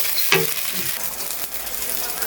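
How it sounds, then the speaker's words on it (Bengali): Garlic paste dropped into a hot pan of oil sets off a crackling sizzle, with a brief scrape of stirring near the start, then a steady frying hiss throughout. "রসুন বাটা দিয়ে দিলাম।"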